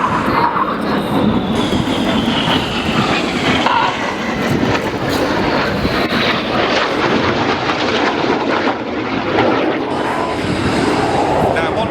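Red Arrows synchro pair jets at the Leuchars airshow make an opposition pass, a loud continuous roar that swells and shifts pitch against heavy wind and crowd noise, with a commentator talking over it.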